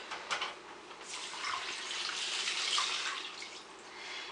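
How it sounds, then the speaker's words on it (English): Two cups of water pour steadily into a multi-purpose steamer in a continuous splashing stream for several seconds, close by, with no talking. "I'm going to add 2 cups of water."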